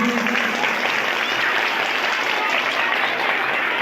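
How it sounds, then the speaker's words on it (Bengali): A school audience applauds during a student felicitation ceremony, a dense, steady wash of many clapping hands that continues without a break. "তোমরা ধরে হাততালি দেবে।"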